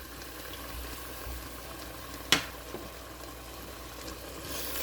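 Chicken in a pan for a chicken shorba salaan sizzles faintly and steadily after oil is poured in, with one sharp clink midway and no talking.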